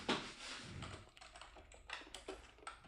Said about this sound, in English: I'm going to type the word on